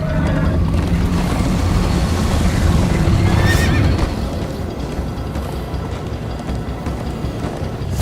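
In Minecraft, a horse whinnies loudly over rumbling hooves, and then the galloping continues as a lower, steady thudding.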